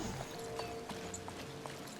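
Horse hooves clip-clop in the Disney Dreamlight Valley video game, a quick faint run of evenly spaced hoofbeats over a soft ambient background.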